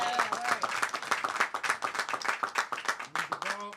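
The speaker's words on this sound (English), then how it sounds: "Can we please give them a round of applause?" An audience at a bill signing claps for a congressmember and a senator, a run of distinct, fairly close handclaps from a modest crowd, with voices rising briefly near the end.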